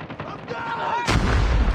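A heavy gunshot booms loudly in a shooter video game, one sharp blast cutting in after a moment of voice and background noise.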